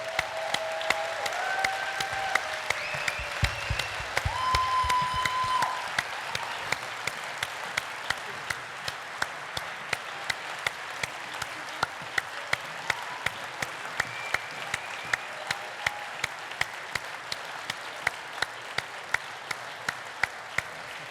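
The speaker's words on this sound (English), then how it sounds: "Give them all a round of applause." Audience applause greets the full lineup of Clipper Race skippers and crew called back onstage, a dense wash of clapping that swells early and then thins into scattered claps across the whole span.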